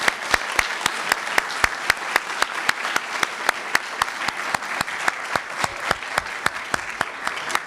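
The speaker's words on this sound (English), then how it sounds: "We really deserve to give you a round of applause." Sustained audience applause fills a candidate forum for the 119th District hosted by the League of Women Voters of the Wilkes-Barre area: dense, steady clapping with sharp individual claps standing out, loud and close, with no talk over it.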